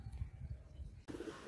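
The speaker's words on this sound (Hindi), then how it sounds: "देसी कबूतर है, प्योर देसी" A desi black-eyed pigeon gives low, soft coos close by, a few muffled pulses that are quiet and brief, then a rustling shift in the background.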